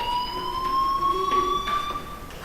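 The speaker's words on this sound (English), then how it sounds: "do you hear that fire alarm? That means you should be outside." A fire alarm in the video game Life is Strange: a steady, piercing electronic tone that holds on loudly and continuously, with no one talking over it.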